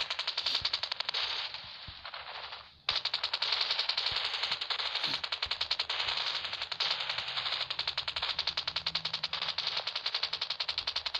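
Sustained rapid automatic gunfire in the mobile battle-royale game Rules of Survival, a dense machine-gun rattle running almost continuously, with one brief break before the firing resumes.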